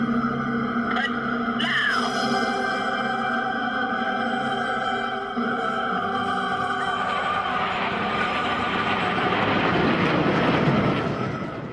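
Black Eagles jets of the Republic of Korea Air Force aerobatic team pass overhead with a sustained jet roar that swells and sweeps. The sound stays loud and steady for several seconds, with no talking.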